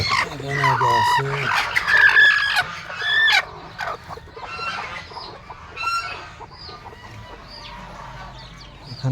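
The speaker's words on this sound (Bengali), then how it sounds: "এখানে দেওয়া আছে মুরগি" Chickens cluck and call at a rural country-chicken shop, with loud overlapping clucks and squawks early on that fade to scattered, quieter calls later.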